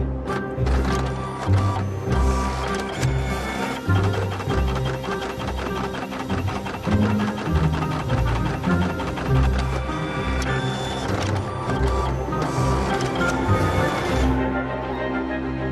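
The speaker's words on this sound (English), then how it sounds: "The printer immediately unblocks." An inkjet printer whose counter chip has just been reset runs steadily, its mechanism whirring and clattering in a continuous rhythmic pattern, loud and close, for the whole stretch with no voices.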